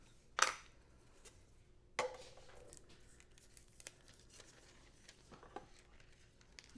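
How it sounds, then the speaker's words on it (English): Champagne foil is cut and crinkled for a layering stencil, two sharp crisp tearing crackles followed by quieter intermittent rustles and small ticks, close and faint, with no talking. "I'm going to cut my foil to fit across here."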